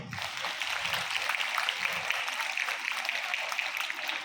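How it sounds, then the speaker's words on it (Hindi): Applause from a crowd at a school Republic Day celebration after a student marching parade, a soft steady patter of many hands clapping at moderate distance, with a voice briefly heard at the start. "हमारी कैप्टन्स और विद्यार्थियों के इस जोश भरे परेड के लिए जोरदार तालियां"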